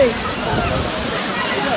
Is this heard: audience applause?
no